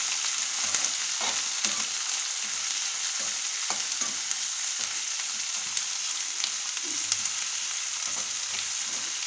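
Green chillies, garlic and curry leaves fry in a pan with a steady, loud crackling sizzle that runs unbroken throughout, dotted with small pops and faint clicks.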